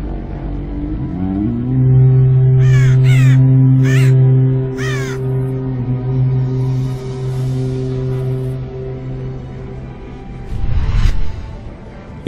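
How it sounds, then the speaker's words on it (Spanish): Storm crows in the Warcraft III video game let out a quick run of harsh, rasping caws, four or five in a row, over a loud sustained musical drone, with another swell of sound near the end. "Dejad que los cuervos de tormenta vuelen una vez más con los vientos de guerra."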